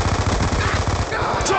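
Rapid automatic machine gun fire in the Black Ops 2 video game, a dense continuous burst of loud shots with game voices calling out faintly beneath.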